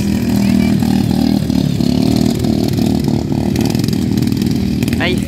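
A Honda GX engine on a racing lawn tractor fitted with a tractor wheel at a lawn tractor race in Saché, steady loud droning under crowd chatter and people talking nearby.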